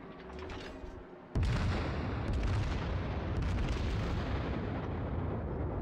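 A battleship Fuso's main gun salvo in World of Warships erupts with a sudden loud, booming blast, followed by a sustained heavy rumble that rolls on for several seconds.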